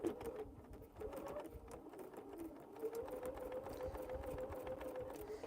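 A sewing machine stitching a tiny quilt square runs steadily with a humming, whirring motor tone and rapid needle chatter, fairly quiet and close, continuing without pause and with no speech.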